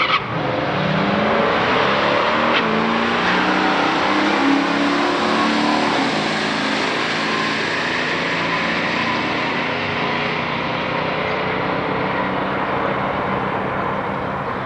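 A 1978 Chevrolet Camaro Z28 and a 1970 Plymouth GTX in a factory stock quarter-mile drag race, loud engines roaring and revving steadily through the run without any talk.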